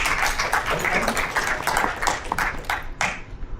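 An audience at an event in Kenya claps steadily, a dense patter of hands at moderate volume with a few sharper individual claps standing out.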